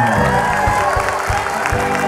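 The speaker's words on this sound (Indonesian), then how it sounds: "Tepuk tangan untuk tim A yang habis." A studio audience at a word game show applauds team A, a loud, continuous roar of clapping with a few cheers mixed in.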